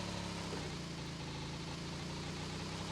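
A motorbike engine in a video game drones at a steady, low idle, an even continuous hum with no revving, faint and unchanging throughout.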